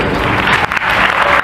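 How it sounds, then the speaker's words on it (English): Loud, dense applause from a convention audience in Singapore, a continuous wash of many hands clapping close by with a brief dip midway. "give them a round of applause"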